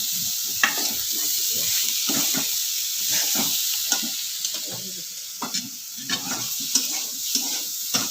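Eggplant and fenugreek greens frying in hot oil, a steady close sizzle with stirring scrapes and small pops throughout, no talking.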